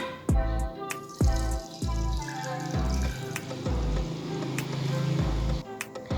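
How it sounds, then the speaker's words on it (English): Water splashes and gurgles into a saucepan in uneven surges, with several sharp knocks of the vessel between pours, close up and fairly loud, while preparing instant noodles. "we pour the water into the saucepan"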